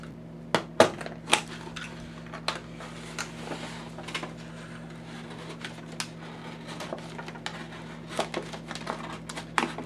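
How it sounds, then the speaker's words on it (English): A knife cuts the bottom off a plastic soda bottle with irregular crisp crackles and snaps of the plastic, clustered early and scattered later, heard over a low steady hum. "Now for the next bottle I need to cut off the bottom"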